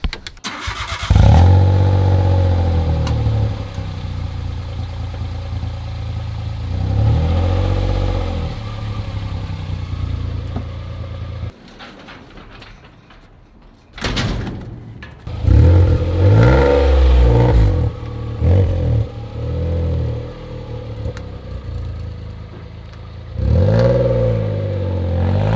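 A Citroen C1 fitted with a loud aftermarket exhaust revs hard up close in repeated bursts, each rise and fall ending in crackling pops, with a short quieter idle gap partway through.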